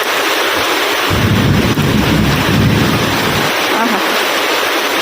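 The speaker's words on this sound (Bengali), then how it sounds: "কিভাবে মেঘ ডাকতেছে" Thunder rumbles for a couple of seconds beneath heavy rain over a rooftop in Dhaka, a deep swelling roll rising out of the constant loud downpour hiss and then fading.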